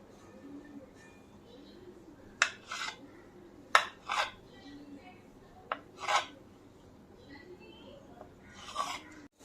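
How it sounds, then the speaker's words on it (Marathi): A knife slices a rolled log of karanji dough into pieces, making a handful of short, crisp taps and scrapes against the board, spaced irregularly over quiet kitchen background. "आपण आता चाकूने कट करूयात"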